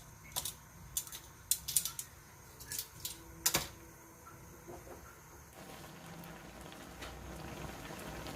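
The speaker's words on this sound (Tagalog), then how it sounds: "kumukulo na" Water comes to a boil in a cooking pot with the stock for garlic butter shrimp. Irregular bubbling pops and clicks sit over a steady soft hiss, close and fairly quiet, with no talk.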